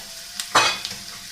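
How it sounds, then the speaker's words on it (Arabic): Minced kefta meat, 250 grams, hits a hot pan and bursts into a loud sizzle that slowly fades, with a light stir and a faint utensil tap nearby; no talking. "ودابا غادي نزيدو الكفته ديالنا، 250 غرام ديال الكفته"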